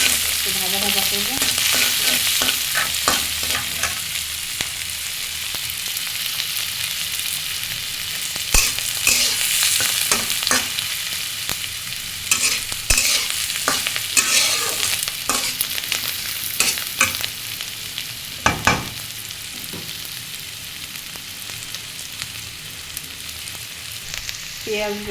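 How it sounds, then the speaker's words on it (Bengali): Onion, garlic and chili fry in a wok with a steady close sizzle, broken by repeated scraping and clattering stirs throughout, with no talk. "পেঁয়াজ, রসুন, মরিচ দিয়ে দিলাম।"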